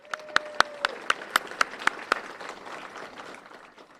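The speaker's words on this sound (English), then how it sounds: "Again, one more round of applause." Sparse applause at an annual advocacy awards program, heard as a handful of distinct, evenly spaced claps that fade out and leave a quiet room.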